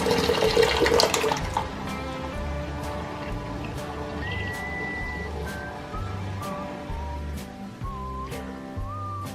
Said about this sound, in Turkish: Normal çeşme suyunu açarak lavabo açma işlemimi tamamlıyorum.